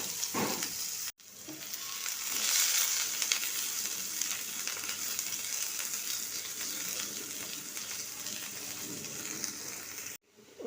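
Thinly sliced onion dropped into white oil with cinnamon and green cardamom in a frying pan, a loud dense hiss of frying that holds steady for several seconds between two brief cuts of silence.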